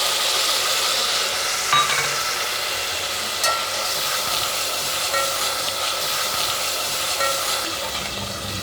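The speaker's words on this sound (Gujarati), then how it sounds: "મરચાં તળી જાય એમાં ટમેટાની પ્યુરી નાખી દેવાની" Tomato puree is poured onto chillies frying in hot oil for palak paneer, producing a broad, steady sizzling hiss close by, with a few sharp clicks and spatters through the bubbling.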